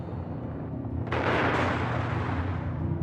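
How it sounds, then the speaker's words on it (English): The armored cruiser Schleswig-Holstein fires a naval gun barrage on the Westerplatte: a single heavy blast erupts and rumbles away over a steady, noisy background. "the armored cruiser Schleswig-Holstein opened fire on the Westerplatte with all its guns. The barrage continues."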